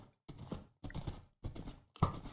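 Horse hooves clip-clop in a blocky survival video game world, four quick bursts of steps in a steady rhythm, fairly close and clear with no talk over them.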